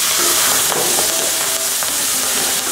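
Mongolian pork stir-fries in a pan over high heat, a loud dense sizzle and hiss running throughout with faint scraping clicks of stirring; no one speaks.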